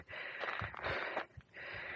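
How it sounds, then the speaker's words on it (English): Heavy, ragged breathing after a short steep climb to the Artist's Palette overlook in Death Valley on an extremely hot day, with close, audible gasping breaths in uneven bursts and brief pauses between them. "Sorry for the breathing."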